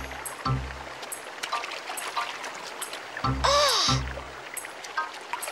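A brook flows in a cartoon, a continuous trickling, babbling water sound at moderate level, broken by a few short tonal animated sound effects, including one bright rising-and-falling chirp.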